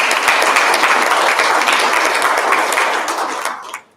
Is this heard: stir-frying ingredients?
no